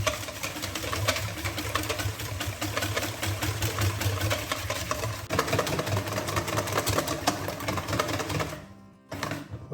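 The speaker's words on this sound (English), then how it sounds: "we're going to whisk up some cream" An electric whisk beats 250 ml of double cream, a steady close buzzing motor drone with a rapid rattling texture that cuts out briefly just before the end.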